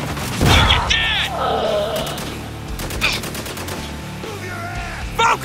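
Heavy gunfire from Spec Ops: The Line, close and loud: rapid bursts and single shots crack in a chaotic firefight, with shouting voices mixed in.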